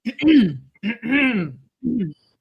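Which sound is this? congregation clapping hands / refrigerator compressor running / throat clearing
throat clearing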